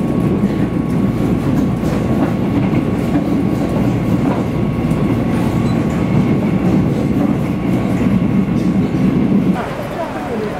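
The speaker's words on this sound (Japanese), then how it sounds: "ルイファン駅行きのちょっと電車を今待ってます" Train bound for Ruifang, Taiwan rolls steadily at a station with a continuous loud rumble and clatter of wheels, easing slightly near the end as the noise drops.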